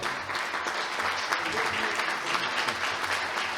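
Steady, continuous applause from an audience at the closing of a municipal sports forum, a dense wash of many hands clapping throughout at an even level.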